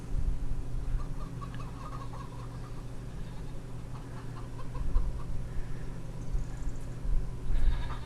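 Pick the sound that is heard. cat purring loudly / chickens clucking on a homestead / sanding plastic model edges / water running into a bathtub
chickens clucking on a homestead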